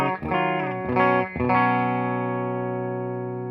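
A clean electric guitar through a Fender Deluxe Reverb amp, pedals bypassed, plays a few quick notes, then lets a chord ring out and slowly fade, bright and undistorted.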